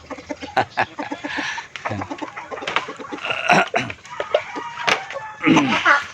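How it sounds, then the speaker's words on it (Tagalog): Chickens cluck and squawk in bursts nearby, with duck calls mixed in, irregular and fairly loud. "ang mga manok natin sa likuran at saka mga pato"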